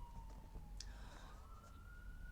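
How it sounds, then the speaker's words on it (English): An ambulance siren wails faintly in the distance, a single steady rising-and-falling tone carried beneath a low rumble of background noise. "I might hear an ambulance in the background"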